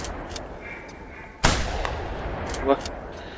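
A single sharp gunshot cracks out at ducks on a bayou in theHunter Classic video game, followed by a fainter second report, with quiet ambience and faint bird calls around it.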